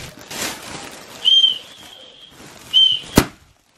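Two short, shrill whistle blasts, each about a second long, sounding close by, followed by a sharp click.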